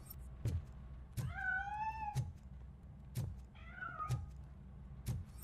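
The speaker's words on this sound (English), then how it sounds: "That cat must be hiding inside." Cat meowing in the video game RoboCop: Rogue City, two drawn-out plaintive meows between regular heavy knocking thuds, fairly quiet, with no talking.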